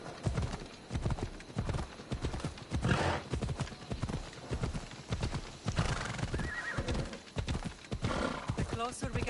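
A horse's hooves clop in a steady galloping rhythm during a ride in Assassin's Creed Odyssey, with a whinny along the way and game sounds around it.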